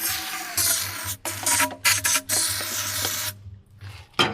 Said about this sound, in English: Let's spray a little bit more here.